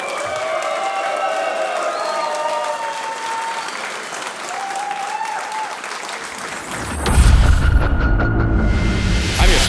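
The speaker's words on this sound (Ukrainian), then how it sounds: "Оплески хлопцям!" Arena crowd applauding two fighters after a unanimous-decision bout result, dense clapping throughout that swells louder with cheering and whoops toward the end.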